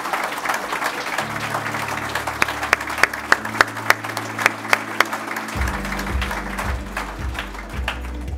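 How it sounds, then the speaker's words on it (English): Applause from an awards ceremony audience, sustained crowd clapping with scattered sharp close claps, running steadily over low background music tones. "Please keep your applause going."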